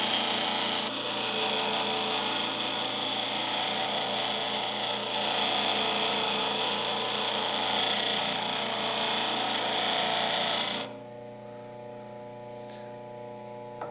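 A bench grinder grinds the bevel of a woodworking chisel with a steady close whirring drone that holds for most of the stretch, then drops to a quieter running hum.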